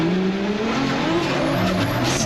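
Two big drift cars slide side by side in a drift competition, their engines revving hard and tires squealing in rising and falling tones, loud and close.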